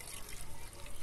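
Liquid being poured from one jar into a spray bottle, a homemade garlic-and-onion water spray for garden pests, making a steady close trickle and splash through the whole short moment.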